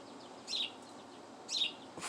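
Outdoors, a bird gives two sharp high chirps about a second apart over a quiet background hiss, with a faint third note at the very end.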